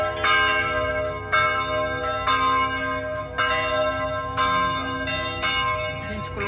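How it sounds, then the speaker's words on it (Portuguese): A church bell tolls at noon in a churchyard in Holambra, São Paulo: loud, resonant strokes roughly once a second, each ringing out with a long metallic hum, no voices. "Agora é meio-dia, então toca o sino."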